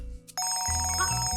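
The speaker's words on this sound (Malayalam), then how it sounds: "ഞാൻ ഫോൺ എടുക്കട്ടെ." A phone ringtone starts abruptly after a brief bump and plays loudly up close as a bright electronic melody with a pulsing beat.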